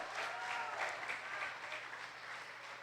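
Faint, steady applause from a church congregation clapping for Christ Jesus, a soft even wash of many hands heard from a distance.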